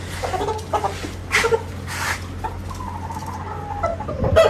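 Desi chickens and a rooster cluck and squawk in a farmyard, several short calls scattered over a steady low hum, with a louder burst near the end.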